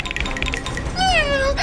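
A toy cat gives a single electronic meow, a clear rising-then-falling tone near the end, following a brief scuffle of background noise.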